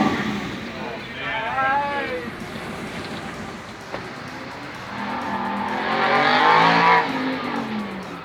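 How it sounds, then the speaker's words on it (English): An Aston Martin V8 Vantage engine starts and swells into a loud, rising roar in the second half, with voices heard earlier over a rough background. "Here we have an Aston Martin V8 Vantage. I also got a clip of it starting up."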